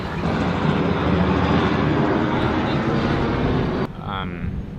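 A helicopter flies overhead outdoors, giving a steady, fairly loud broadband roar and drone that holds for several seconds, then drops off sharply near the end.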